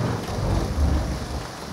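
Low rumbling thunder rolls through steady rain during a storm, a continuous dense wash of rainfall with a deep swelling boom in the middle, no voices.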